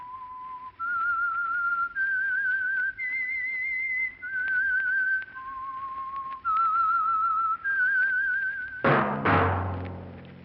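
A lone whistler carries the theme tune of The Whistler radio show, a clear melody of sustained notes rising step by step, some with a slight waver, ending in a sudden loud orchestral chord.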